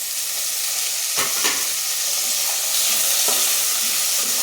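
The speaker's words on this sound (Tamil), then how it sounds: "தக்காளி நல்லா வதங்கட்டும்" Tomatoes sizzle steadily in a hot pan for a Chettinad-style mushroom biryani, with a few brief clanks of a spoon stirring them.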